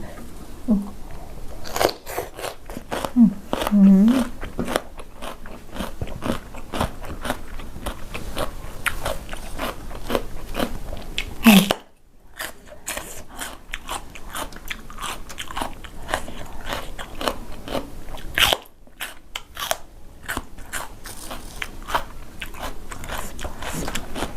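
Crunchy bitter gourd is bitten and chewed up close with wet, crisp crunches and steady mastication, alongside a spicy crab and fermented fish papaya salad with rice noodles and cha-om greens.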